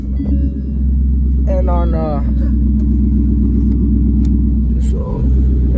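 A single turbo Mustang engine held on a two-step near 3,600 rpm with the transbrake engaged gives a loud, steady, close rumble with a low throb, while someone speaks briefly over it.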